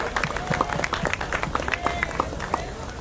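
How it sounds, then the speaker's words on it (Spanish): Scattered clapping from a book-launch audience at a fair follows a musical performance, sharp irregular claps mixed with voices and crowd murmur. "les pido nuevamente un aplauso para su interpretación"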